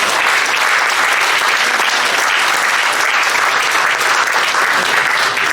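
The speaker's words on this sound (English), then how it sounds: "Round of applause now." Passengers aboard the P&O cruise ship Aurora give a continuous, dense round of applause, loud and even throughout with no break.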